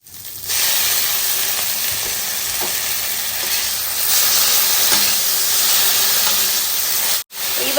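Shrimp and taro stolons fry in a pan, a loud, steady broadband sizzle with a few soft stirring knocks, cut by a brief pause near the end before the hiss resumes.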